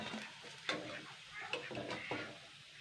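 Lentil fritters (dal bora) fry in hot oil in a home kitchen, a steady close sizzle with a few sharp scrapes and clinks of a utensil against the pan, no talking.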